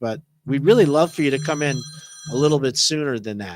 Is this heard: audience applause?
no